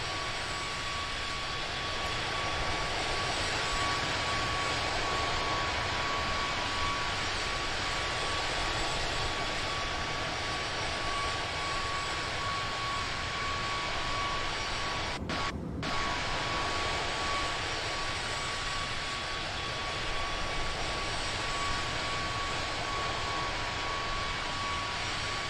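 The engine of an Airbus A320neo in Microsoft Flight Simulator 2024 gives a constant, loud, broadband jet roar with a faint steady whine on top and a brief dip near the middle.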